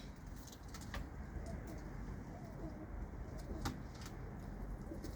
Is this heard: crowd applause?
no